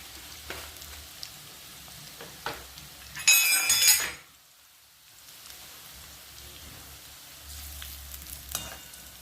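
Onion fries in a pan with a pinch of asafoetida while making a Nagpur-style brinjal curry with fresh field beans. The quiet background sizzle swells into a loud, bright hiss for about a second, drops to near silence, then returns softly with light stirring taps.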